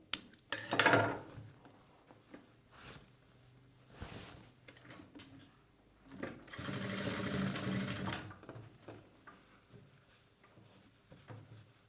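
A sewing machine stitches the back of a boat neck blouse in several bursts of rapid mechanical whirring, the longest run lasting about two seconds, with quieter handling clicks and pauses between.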